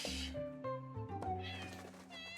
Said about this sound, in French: Oh non, un petit chat.